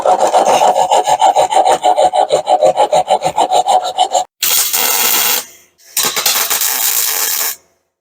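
Loud rhythmic rasping strokes of a power tool shaving down a welded aluminum frame joint, a fast regular scraping pulse, then two sustained grinding passes with a short pause between them.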